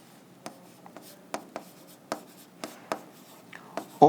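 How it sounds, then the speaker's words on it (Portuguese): Chalk or marker tapping and scraping on a classroom board during a math lesson, a series of about ten short, distinct knocks and strokes with quiet gaps between them. "vou escrever aqui"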